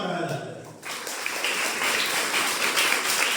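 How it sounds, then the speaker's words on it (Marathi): Steady crowd applause rises after a voice at a school felicitation event, clapping for the teachers and filling the hall with dense, continuous noise. "या अशा शिक्षकांसाठी जोरदार टाळ्या झाल्या"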